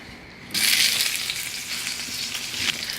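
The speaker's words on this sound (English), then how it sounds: "2 big white onions, approximately 1/4 inch thick. These can go right into your skillet." Thick-sliced white onion chunks hit hot oil in a skillet and burst into a loud, steady sizzle that holds for a few seconds with soft crackles, close and with no talking, softening for a frittata.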